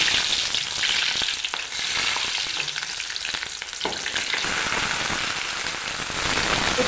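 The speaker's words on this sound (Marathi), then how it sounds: "तेल आपलं तापलेलं गेलं आहे. ह्याच्यामध्ये आपण आता टाकूया कांदा." Onions frying in hot oil, a dense, continuous crackling sizzle with a few soft stirring knocks, close and fairly loud, with no talk.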